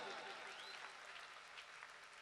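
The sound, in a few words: audience loud applause at bhajan jagran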